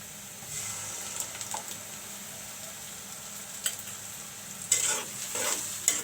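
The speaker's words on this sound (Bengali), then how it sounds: "মশলাগুলো একটু কষিয়ে নিব।" Mixed spices sauté in a pan for a tomato bhangna fish curry, a soft, steady sizzle close by with occasional stirring scrapes and brief louder bursts near the end.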